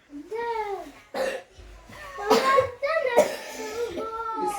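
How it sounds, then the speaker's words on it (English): Several young children cough in short, ragged bursts, some nearby and loud, mixed with childish voices and a bit of laughter. "You see, they all coughing."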